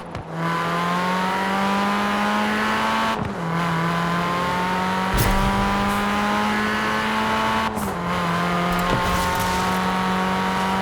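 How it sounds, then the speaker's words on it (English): In the Forza Horizon 4 racing game, a car rips along a mountain road, its engine droning at high revs with brief gear-change dips, plus sharp tire and impact noises, loud and up close. "Just have a quick listen to this car ripping through the mountains here."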